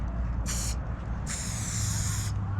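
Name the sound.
spray paint can spraying with a fat cap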